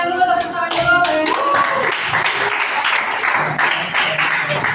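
Students in a classroom counselling session clap their hands together in a dense, steady burst that carries through the whole moment, with voices mixed in underneath.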